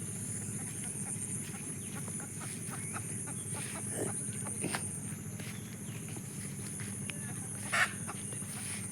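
Village chickens cluck near a dirt path by a jute field, a dense, steady low chatter of birds with a few sharper calls rising over it throughout.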